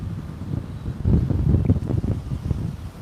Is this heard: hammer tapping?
no